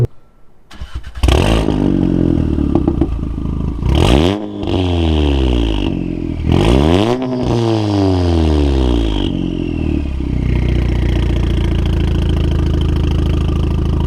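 A loud aftermarket exhaust on a tuned 520 hp Volkswagen Golf R Mk7 starting up, revving sharply several times with rising and falling pitch, then settling into a deep rumbling idle.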